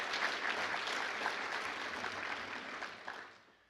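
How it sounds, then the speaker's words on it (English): Warm applause from attendees at a Quarter Century Club staff celebration, a fairly quiet round of many hands clapping that holds steady and then fades away toward the end. "So just a big round of applause, please,"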